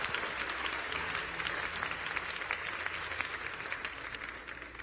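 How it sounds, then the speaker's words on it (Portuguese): A congregation applauds at a Catholic Mass, a full, sustained wash of clapping from many people filling the church at steady loudness with a faint low hum beneath, no speech over it. "Vamos aplaudir a palavra de Deus."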